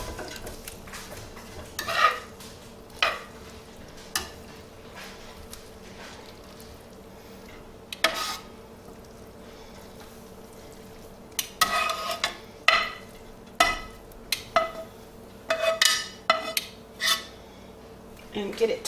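Vegetables tossed with drained spaghetti in a pan, heard as intermittent clatters and scrapes of utensils against cookware, sparse at first and then coming in quicker clusters.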